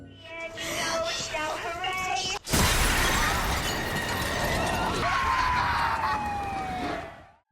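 A loud crash of a car window smashing bursts in after a brief lead-in, followed by a sustained rumbling clatter and a wailing tone.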